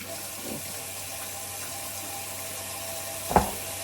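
A kitchen tap runs to soak food, a soft steady water hiss close by with a faint splash early and a brief clunk near the end.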